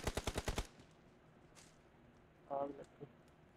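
Rapid automatic gunfire in the battle royale game BGMI, about six loud close shots in a quick burst, followed by quieter game noises and a brief rustling burst.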